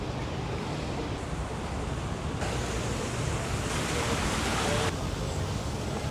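A water table feature in Market Square Park in downtown Houston at night gives a steady wash of splashing, rushing water that fills the scene evenly from start to end.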